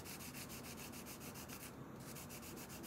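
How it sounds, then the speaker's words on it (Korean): Continuous rhythmic scraping of sandpaper rubbed back and forth against a steel differential gear part from an HB Racing D8 RC car, close and loud, with a brief pause near the end. "어떻게 가냐면 이거를 역시 사포 대고 이렇게"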